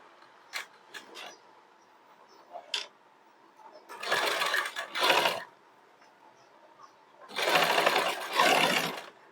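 A sewing machine attaches ready-made piping to a blouse, running in two short, loud whirring bursts separated by quiet gaps, with a few small clicks and handling taps early on.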